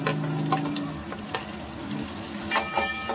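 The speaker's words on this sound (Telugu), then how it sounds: "కొంచెం ఫ్రై అవ్వాలండి. ఫ్రై అంతవరకు కలుపుకుందాం." Onions frying with cloves, star anise and bay leaves in a pan for country chicken curry, stirred now and then, giving a steady sizzle under scattered scraping and clinking of the spoon against the pot.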